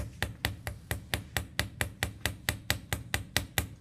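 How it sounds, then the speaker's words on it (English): Light hammer taps on the top piece of a wire rivet, about fifteen quick, evenly spaced metallic clicks at a steady rhythm, close up with no talking. "I'm going to lightly tap on this top piece"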